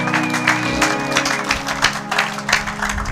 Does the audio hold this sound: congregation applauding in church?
yes